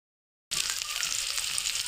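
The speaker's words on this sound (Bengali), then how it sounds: "ভাজা ভাজা করে নিব।" Hyacinth bean seeds frying in a pan in a village kitchen, a sudden steady sizzle that starts after a short silence and continues evenly, close and moderately loud.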